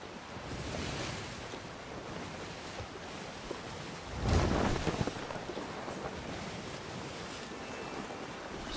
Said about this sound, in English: The wind blowing.